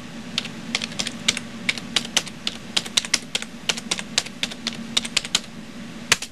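Typing on a computer keyboard while setting up an HP dc7600 SFF NAS, quick irregular key clicks close by at a moderate volume over a low hum.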